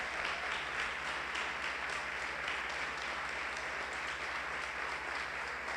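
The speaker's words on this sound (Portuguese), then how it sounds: "Você pode aplaudir Jesus?" Church congregation applauding at a worship service: a steady, dense wash of many hands clapping together, continuous and even throughout with no pauses or voices standing out.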